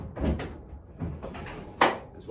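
A car door on a Metro 6R4 swings shut with a sharp, close thud, following a few softer handling knocks and rustles, with no voices.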